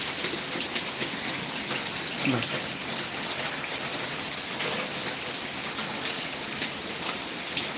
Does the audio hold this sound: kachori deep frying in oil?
no